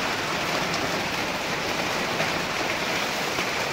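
Steady rain falls in an April downpour, a dense, even hiss of drops spattering on surfaces that holds at constant loudness throughout with no voices.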